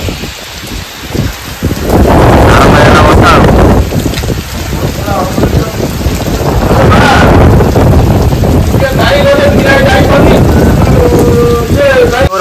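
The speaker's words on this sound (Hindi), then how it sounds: "भयंकर वर्षा" Heavy monsoon-style downpour with thunder, a loud, continuous roar of rain and surging rumbles of thunder rising and falling close to the microphone, with gusts of wind noise.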